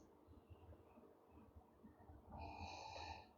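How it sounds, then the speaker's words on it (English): Dog snoring softly indoors, quiet uneven snorty breaths, with one louder, rasping wheeze toward the end. "That's my dog snoring"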